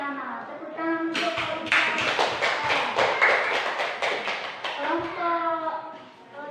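Classroom applause for a winning group, a burst of many children clapping for several seconds between stretches of a teacher talking.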